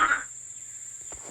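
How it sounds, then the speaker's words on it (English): A frog in the video game UltFoxSim gives a short croak at the start, followed by quieter game ambience under a steady high electronic tone and a couple of faint soft thumps. "this frog is just annoying me."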